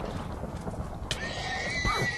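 A horse in a video game lets out a loud whinny alone, ringing out and trailing off, with faint hoof clip-clops beneath it.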